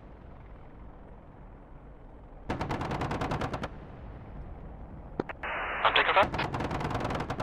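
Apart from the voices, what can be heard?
gunfire in DCS World video game, AH-64D mission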